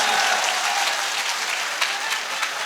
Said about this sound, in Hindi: एक बार पुलिस डिपार्टमेंट के लिए जोरदार तालियों से इनका इस्तकबाल कीजिए